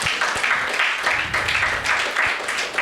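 A church congregation claps loudly together, a dense, rhythmic wash of many hands pulsing in roughly even beats throughout the short stretch, with no clear voices over it.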